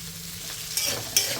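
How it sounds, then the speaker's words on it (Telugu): Onions and green chilies fry in hot oil with a steady high sizzle, broken by two short louder scrapes or stirs near the end; no voices. "ఉల్లిపాయ ముక్కలు పచ్చిమిర్చి వేగే వరకు ఫ్రై చేసేసుకోవాలి."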